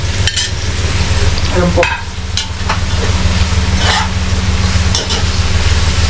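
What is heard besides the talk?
sautéing ingredients with tomato in a pan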